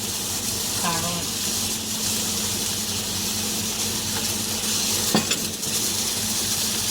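Carrots stir-frying in a pan for Filipino-style spaghetti make a steady sizzle with occasional scraping stirs and a sharp utensil clink against the pan, and a voice talks briefly over the cooking.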